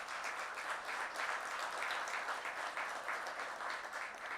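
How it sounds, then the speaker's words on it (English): Steady applause from an audience at a Burbank digital and tech event, a dense even patter of many hands clapping at moderate distance, sustained without a break and with no voices over it. "I've never gotten applause before."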